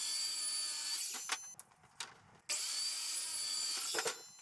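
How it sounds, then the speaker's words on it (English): A miter saw cuts wooden boards for a toddler house bed, its high whine running steadily, dipping into a brief pause with clunks, then spinning back up for another cut, close and loud. "I'm just gonna run through all the cuts really quick on my miter saw."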